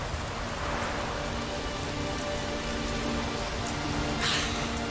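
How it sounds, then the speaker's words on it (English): Steady rain falls in a dense, even hiss, pattering on surfaces close by with no voices. "Oh, raining again."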